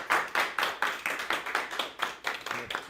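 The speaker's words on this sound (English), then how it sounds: "One more round of applause for Eric." A small audience at a show-and-tell meetup claps for a presenter: quick, fairly even hand claps fill the moment, nearby and moderately loud, with no talk over them.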